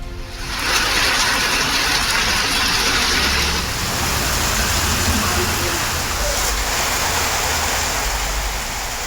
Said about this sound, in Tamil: கன்னியாகுமரி மாவட்டத்தின் பல்வேறு பகுதிகளில் கனமழை.